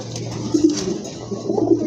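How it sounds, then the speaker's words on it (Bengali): Pigeons coo nearby in soft, low, throaty bursts, repeated a few times over a faint background hum. "আরেক জোড়া কবুতর দেখতে পাচ্ছেন"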